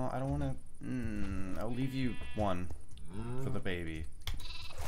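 Sheep in the Minecraft video game bleat several times in wavering, nasal calls, loud and close. A person talks over and between the bleats.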